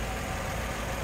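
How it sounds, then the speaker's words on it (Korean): A Renault Samsung SM7 New Art RE with a V6 idles with the hood open, a steady low engine hum and broadband whir, even and close, with no talk over it. "엔진 소리 너무 좋고요"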